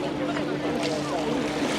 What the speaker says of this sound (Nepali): डुङ्गा चलाएर